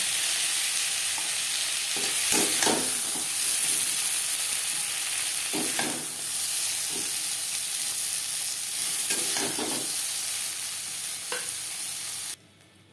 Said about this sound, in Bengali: পটল হালকা করে ভাজা হয়ে গেছে